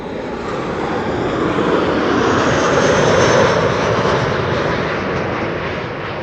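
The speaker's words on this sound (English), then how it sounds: "Ryanair flight 420 arriving from Dublin, Ireland. 737-800." A Ryanair Boeing 737-800 arriving from Dublin comes in to land at Amsterdam Schiphol Airport, its jet engines producing a loud, steady roaring rush that swells to a peak near the middle and eases slightly, close by with no talk.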